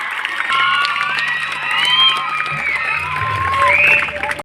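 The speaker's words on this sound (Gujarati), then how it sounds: "તેઓ કેશુરભાઈ કિંગનું સન્માન કરે એને પણ આપણે તાળીઓના ગણગડાથી વધાવીએ" A crowd at an honoring ceremony during a student discussion event claps and cheers, sustained and loud, with shouting voices mixed into the applause.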